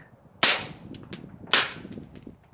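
Two sharp suppressed shots from a 1911/2011 pistol firing supers through a dirty silencer, about a second apart, each a loud crack with a short decaying tail over quiet background.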